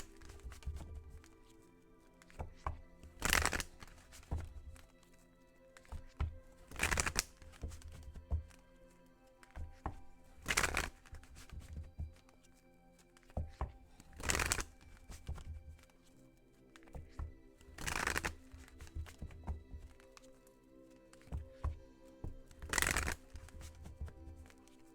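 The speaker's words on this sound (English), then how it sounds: "let me pull a card from the Romance Angels Oracle deck by Doreen Virtue" Romance Angels Oracle cards being shuffled in repeated bursts, each riffle a loud crisp flutter a few seconds apart, with quieter handling rustles between them and no talking.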